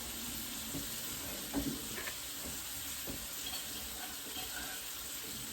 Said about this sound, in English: While the cold water is running,